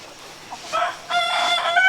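A chicken on a homestead, being chased by a dog, clucks and squawks in a few short bursts, close by and fairly loud, with no talking.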